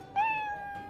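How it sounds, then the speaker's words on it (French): A cat gives a single clear, close meow with a rising then drawn-out tone, lasting under a second against a quiet background. "Il miaule de nouveau, l'air satisfait."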